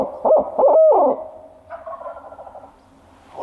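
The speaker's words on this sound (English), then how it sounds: "that's a good mature gobble" A wild turkey gobbler on a mountainside lets out a full, loud gobble, a rapid rattling burst close by, followed by a softer, more distant answering gobble trailing off in the open woods.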